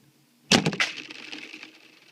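A K'nex toy gun fires plastic pieces that strike a wall, a sharp burst of clattering impacts followed by a short scatter of lighter rattles, close and alone.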